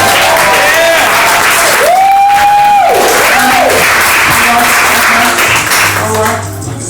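An audience at a live comedy and magic show claps and cheers, a loud, dense wash of applause with whoops and whistles rising over it, tapering off at the end.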